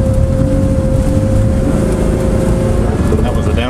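A 1986 Lesharo RV engine downshifting while driving on the road: a loud, steady, droning engine note with cabin rumble throughout and a slight shift in pitch toward the end.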